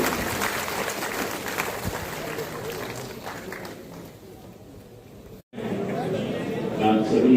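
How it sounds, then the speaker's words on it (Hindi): A crowd applauds to welcome Lieutenant Governor Manoj Sinha at a National Voters' Day celebration in Jammu, with steady dense clapping and murmured chatter that briefly cuts out before picking up again. "जोरदार तालियों से अभिनंदन कीजिए माननीय उपराज्यपाल"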